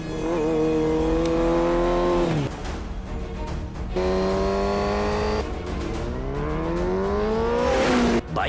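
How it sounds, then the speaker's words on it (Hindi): A Yamaha R1 motorcycle races past with loud revving and a rising then falling engine whine, the pitch sweeping across two close passes like a high-revving bike crossing nearby. "यामाहा R1 बाइक हेलमेट के साथ क्रॉस कर रहा है, उसे ट्रैक करो।"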